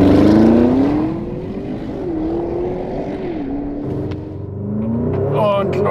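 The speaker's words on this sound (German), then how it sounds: "Bremse durchdrücken, Vollgas geben." A 640 PS Porsche Cayenne Turbo GT launches at full throttle from 0 to 100 km/h, its engine note climbing loudly and dropping briefly at each gear change before rising again, with a voice heard near the end.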